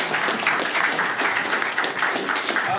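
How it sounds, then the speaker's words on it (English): A crowd breaks into steady applause, dense overlapping clapping that holds evenly for a few seconds without pause. "big round of applause"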